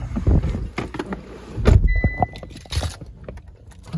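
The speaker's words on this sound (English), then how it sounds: "I'll jump in and start it up" 2018 Mitsubishi Eclipse Cross with about 97,000 km being started from inside the cabin: keys jangle and clunk, then the engine briefly cranks and catches in a short, close burst.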